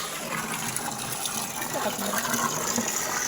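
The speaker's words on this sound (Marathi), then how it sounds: "तर हे बघा हे अशा प्रकारे हे गायांना पाणी पाजायचं काम चालू आहे माझं" Water gushes steadily from a pipe into a tub where cows drink, a continuous rushing fill with a voice speaking faintly over it.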